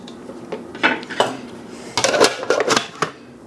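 Smoked brisket gets chopped on a board, a knife striking wood in quick, loud, irregular thuds and clacks up close with no talking.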